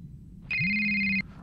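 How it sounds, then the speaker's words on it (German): Telephone in the horror video game Holidays in Khrushchevsk gives a single steady electronic ring lasting under a second, loud and clear over a low background hum. "Boah, das Telefon."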